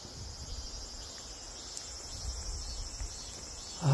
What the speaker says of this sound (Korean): 매미만 이렇게 울고 있습니다.